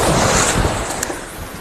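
Sea waves splashing at Bang Saen beach, a loud, broad rush of surf and spray filling the whole moment, with rough wind buffeting the microphone.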